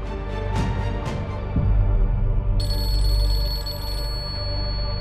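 A telephone rings in a quiet indoor room, a bright repeating electronic ring that enters partway through and holds steadily over a low background hum, with no talk.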